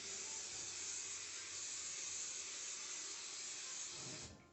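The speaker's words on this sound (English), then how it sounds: "Okay, I've got my cooking spray." Cooking spray hisses steadily from a can onto a pan for a few seconds, a continuous close airy spray that stops abruptly at the end.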